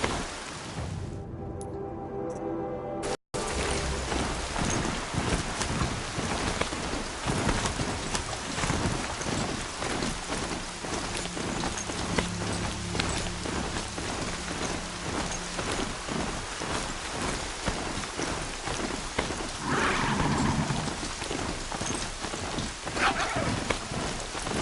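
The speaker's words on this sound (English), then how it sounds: "More rain." Steady heavy rain pours down in the video game Horizon Zero Dawn, a dense continuous hiss with low rumbles of thunder rolling underneath, after a brief quieter moment at the start.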